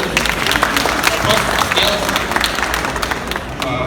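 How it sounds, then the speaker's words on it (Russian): Audience applause at a fan Q&A with the Teenage Mutant Ninja Turtles co-creator, steady dense clapping from a large crowd that fills the whole stretch at even loudness. "Давайте похлопаем."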